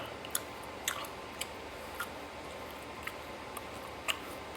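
Crunchy, sweet dried shrimp being chewed close to the mic, giving soft irregular crisp crunches and clicks over a quiet background hiss, with no speech.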